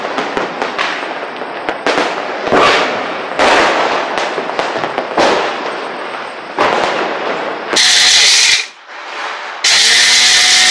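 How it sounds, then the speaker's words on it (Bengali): Firecrackers bursting nonstop outdoors during a festival night, a loud dense barrage of sharp cracks and rolling bangs, with a few sustained hissing whistle-like bursts toward the end and no talk. "কন্টিনিউয়াস জাস্ট এই লেভেলের বাজি ফেটে যাচ্ছে, মানে নন স্টপ"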